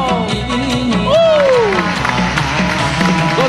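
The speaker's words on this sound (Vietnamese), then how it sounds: "chúng ta cùng chào đón cô một tràng vỗ tay rất lớn" Applause from a crowd greeting a performer at a Vietnamese chầu văn ritual performance by a ceremonial drum club in Bắc Ninh, a steady clatter of clapping mixed under loud sung melody and instruments.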